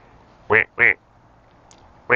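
A person imitates a duck with three short nasal quacks, two in quick succession and a third after a pause, close and loud over quiet outdoor background.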